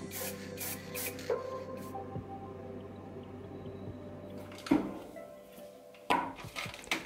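Airbrush spraying high gloss varnish onto a smoothed PLA-printed Wolverine cowl, a steady soft hiss with a faint hum beneath and a few sharp clicks and taps near the end.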